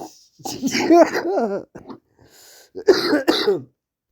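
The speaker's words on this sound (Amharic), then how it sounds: "ያስለኛል" A person coughs and clears their throat in harsh, rasping bursts. A cluster of hacks is followed by a brief pause, then two more strong coughs, close and loud.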